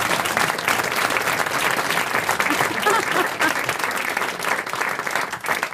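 A studio audience applauding during a French radio comedy show, a dense, steady wash of many hands clapping close by, sustained without a break.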